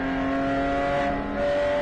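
A GTO-class race car's engine at Virginia International Raceway during a 2021 WRL endurance race, a loud sustained tonal drone with steady harmonic whine across the whole moment, no talking.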